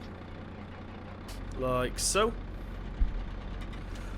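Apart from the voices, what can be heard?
John Deere 6230R tractor engine starting, Farming Simulator 17 video game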